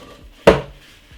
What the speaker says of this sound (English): Put it straight inside of my frying pan like that.